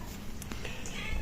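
A short, soft meow from a nearby cat over faint background noise.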